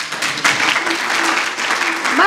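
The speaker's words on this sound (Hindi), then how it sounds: "मैं चाहूंगी इस बात पर आप ताली बजाएं" Applause breaks out from an audience at a Hindi book launch ceremony in Tonk, a steady patter of clapping over a couple of seconds with voices audible beneath it.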